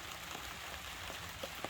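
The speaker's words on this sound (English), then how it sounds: "it's raining outside" Steady rain falls outside a garage where a Foxbody Mustang's front suspension is being worked on, a soft continuous hiss with a few sharper drips near the end, alone.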